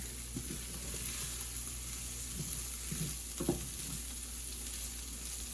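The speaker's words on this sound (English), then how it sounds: "when you stir it around, you can feel that it likes to stick" Creamy risotto stirred in a pan, a quiet bubbling sizzle under a steady hiss, with several soft scraping stir strokes spaced across the moment, close and gentle.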